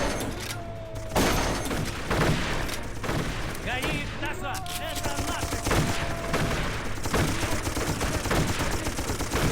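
Soldiers fire rifles and machine guns in the video game Darkest of Days, a steady din of overlapping shots and bursts filling the scene with some game chatter in the mix.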